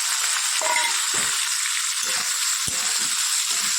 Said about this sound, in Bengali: সয়াবিনটাকে একটু ভেজে নিই